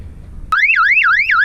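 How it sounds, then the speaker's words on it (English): A sailboat's security alarm blares suddenly after a quiet moment, a loud close electronic siren sweeping rapidly up and down in a repeating warble. "This is replacing this alarm, which was mounted higher up just below the radar dome."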